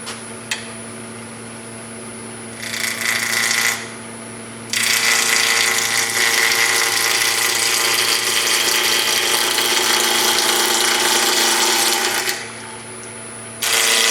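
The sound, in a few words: wood lathe turning a bowl with a bowl gouge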